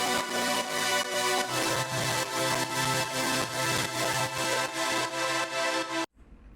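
Hive software synth's Tuna Saw preset with its effects on, in a rage-beat style: a dense, loud, distorted sawtooth chord pulsing in a steady rhythm for about six seconds, then cutting off abruptly, no voices.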